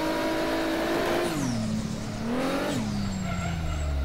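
Race car in rFactor 2 drifting with no traction, engine revving and dropping in pitch while tires squeal and skid in long sliding bursts, loud and close with no talk.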